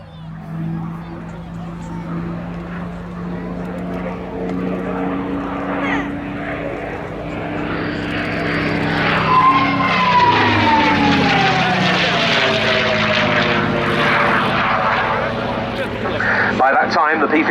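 A bubble-canopy North American P-51D Mustang fighter, built in late 1944 and powered by a Packard Merlin engine, flies at an air show, its propeller roar rising and sweeping past in a steady drone under crowd chatter.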